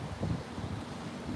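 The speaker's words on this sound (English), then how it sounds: "it's gonna stay windy for a bit" Wind buffets an outdoor microphone in Tokyo, a low, rumbling gusty roar that stays steady and fairly loud across the short stretch with no voices over it.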